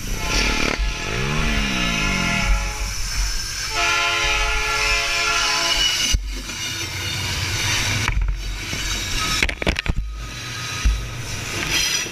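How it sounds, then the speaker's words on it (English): A train roars past close by, sounding a long, loud horn blast over the steady rumble and clatter of its wheels. "him and his friend are still trying to drag it off when the train shows up"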